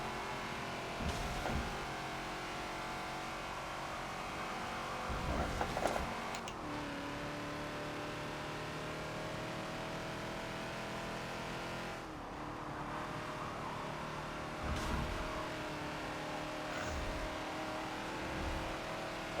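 Ford Falcon XB engine in Forza at the Maple Valley track, a steady close drone that swells and dips as the throttle lifts and reopens, with brief surges and a faint tire noise, no talking.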